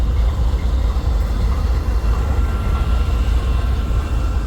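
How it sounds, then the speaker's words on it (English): Eastbound Union Pacific manifest freight train on the Blair Fremont Sub, the former C&NW main line: a steady, loud, broadband rumble of rolling cars passing close, continuous throughout. "On this eastbound manifest, heading down the Blair Fremont Sub, the former C&W main line."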